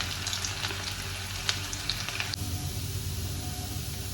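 Ginger frying in a pan for a wheat upma gives a steady, close sizzle and crackle that fills the whole stretch, with a few sharper pops early on before it settles into an even hiss.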